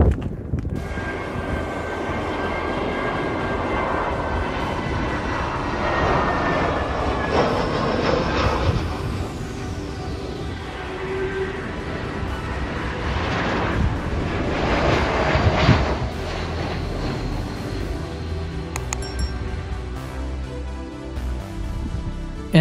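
Engines of a Boeing 747-400 roar at an airport in Mallorca, a broad, steady rumble with shifting whine as the jet passes, heard from a distance outdoors without talk.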